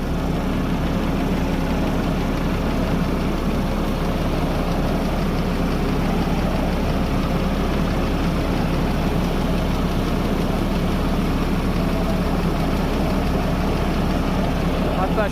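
A tractor engine idles continuously in an apricot orchard during spraying, a steady low constant rumble, loud and close, while someone talks over it throughout.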